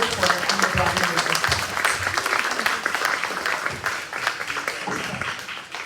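Audience applause welcomes Dr. Howard and Director Nichols to the stage at a report event, a dense, steady wash of clapping that holds for several seconds with voices mixed in beneath it.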